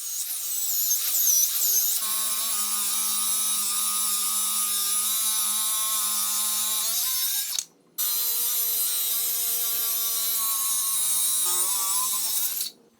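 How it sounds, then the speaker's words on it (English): A power tool whines steadily with a high, ringing tone while cutting 8/4 red oak boards to size, cuts out briefly near the middle, then starts again and runs until near the end. "I got some 8/4 red oak boards that I first had to cut to size"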